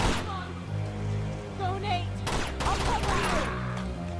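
Gunfire in the video game Uncharted 2 crackles in a sustained fusillade of bursts and impacts, loud and close, with a voice talking over the shooting.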